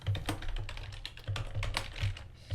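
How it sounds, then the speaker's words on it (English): Typing on a computer keyboard during a game-programming session, with a steady run of quick clicky keystrokes close up and no talking. "Only you're doing the typing."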